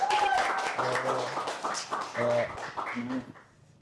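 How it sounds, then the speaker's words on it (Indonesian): Audience applause greets a guest arriving on a boxing-themed podcast set, a burst of clapping mixed with voices and chatter that fades out near the end. "Tepuk tangan dulu teman-teman."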